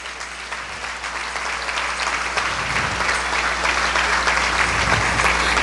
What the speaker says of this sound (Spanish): Dele un aplauso fuerte al Señor de nuevo.